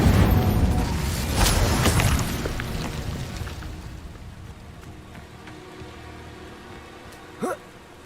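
A fire spell cast in the video game Hogwarts Legacy, a loud rushing burst of flame and crackle up front that fades into a low, dull rumble, with a short sharp flare near the end.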